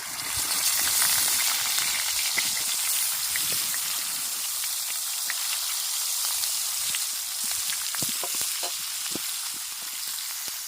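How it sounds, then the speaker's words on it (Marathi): Tilapia frying in hot oil on a flat griddle gives a steady, dense sizzle with scattered crackles and pops throughout, close and alone with no talk. "तेल तापलंय आता, तर चिलापी ठेवून घेते तव्यावरती."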